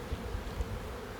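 Honey bees swarm around an opened hive, a close, continuous low buzzing hum with a few brief swells and no talking.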